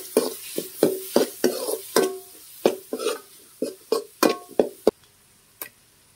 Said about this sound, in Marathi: कांदा व्यवस्थित आपल्याला भाजून घ्यायचा आहे